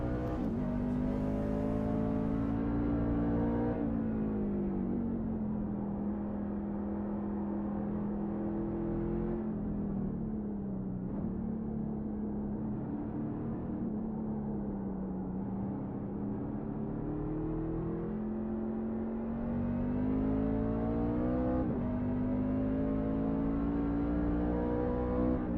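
NASCAR race truck engine roaring steadily on a track, a loud continuous drone that rises and falls in pitch with shifts and throttle changes, with no talk over it.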